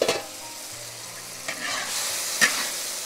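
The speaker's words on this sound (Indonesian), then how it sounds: "kita masukin tahu sama kentang ya. Lalu ikannya juga dimasukin sekalian." Tofu, potatoes and mackerel fry together in a pan, a steady close sizzle with a few sharp stirring scrapes and clatters on top.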